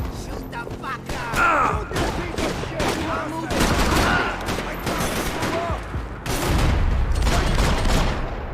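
Rapid bursts of gunfire in the video game Max Payne 3, dense volleys of shots and thuds filling the scene, loud and close, with brief shouted voices mixed in.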